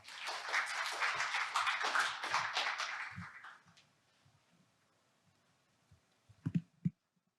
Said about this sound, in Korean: 그럼 발표자를 박수로 맞이하겠습니다